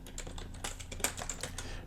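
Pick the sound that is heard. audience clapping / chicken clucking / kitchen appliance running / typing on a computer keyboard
typing on a computer keyboard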